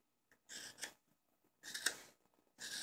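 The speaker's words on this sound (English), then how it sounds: "we're going to go back to the spoon knife. And we're going to make it a little bit deeper" A spoon knife scrapes a hollow into a cherry wood coffee scoop in three short, quiet, rasping strokes separated by silence.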